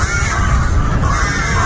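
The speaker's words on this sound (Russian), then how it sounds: "Вороны меня перебивают" Harsh crow caws near a creek-side temple in a remote wooded place, a rough raspy call over steady outdoor background noise.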